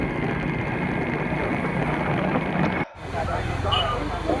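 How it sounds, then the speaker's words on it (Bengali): Steady, loud road and engine rumble from a motorbike ride along a rural road between Patranga and Jaipur, continuous with wind roar and a brief dip near the end. "বাইকে যাচ্ছি"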